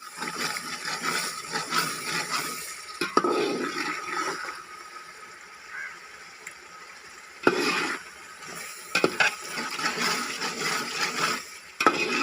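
Masala spices cook with a quarter cup of water in a large pot for village-style achari chana biryani. The noise is a continuous close sizzling and bubbling hiss with irregular louder bursts, and no voices.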